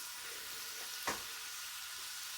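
An Aldi wagyu beef burger sizzles in a pan with a steady, close frying hiss and one brief louder crackle partway through.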